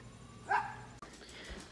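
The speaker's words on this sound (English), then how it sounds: "Crazy dogs." Dogs at home give a single sharp bark, fairly close, followed by quieter whimpering and shuffling noises in a short, otherwise calm indoor moment.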